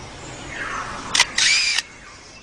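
A forest songbird mimics a motor-driven camera, producing a sharp click followed by a whirring mechanical burst and another click, close and distinct over quiet woodland background.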